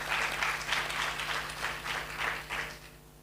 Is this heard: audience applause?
yes